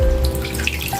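Tap water runs steadily into a sink over a napa cabbage being washed, a close continuous splashing hiss with light drips.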